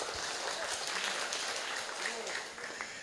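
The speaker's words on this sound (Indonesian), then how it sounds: "Tepuk tangan buat Indonesia." Seminar audience applauding at a tropical date palm event, a fairly quiet, steady patter of many hands with a few sharper individual claps and faint voices mixed in underneath.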